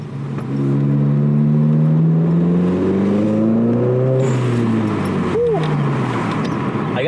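A car with a JB1 tune accelerates hard from a standstill toward sixty, its engine note climbing through the gears with a pitch drop at each shift. The interior drone stays loud throughout.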